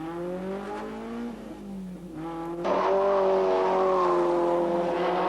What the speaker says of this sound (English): Back in car now with Robin Brundle in the Fina BMW.